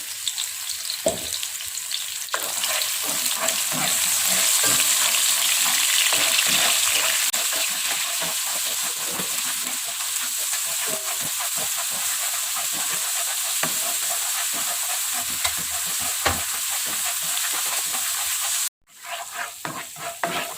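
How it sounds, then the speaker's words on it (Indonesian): Blended spice paste sizzles steadily in hot vegetable oil for a vegetable soup, a continuous frying hiss with scraping stirs and clicks of a utensil, briefly interrupted near the end, with no talk. "Kita tumis bahan bumbu yang kita blender tadi."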